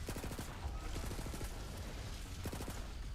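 Rapid bursts of gunfire in the co-op shooter Borderlands 3, quick stuttering volleys of shots under a busy game mix, fairly faint and without spoken words.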